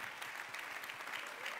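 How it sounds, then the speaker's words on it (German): Steady applause from a large audience at a beauty pageant, a dense continuous wash of clapping heard from a distance, even in level throughout. "Applaus bitte für diese 10 Missen, die uns jetzt leider verlassen müssen."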